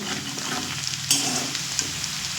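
Onions with turmeric fry in a pan for an elephant-foot-yam chicken curry, keeping up a close, crackling sizzle. Sharp spoon scrapes and knocks from stirring break in now and then; nobody speaks.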